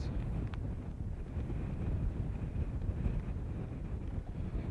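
Steady, blustery wind buffets the microphone with low rumbling gusts, continuous and fairly loud throughout, with no voices, at a rocket launch viewing site on Florida's Space Coast.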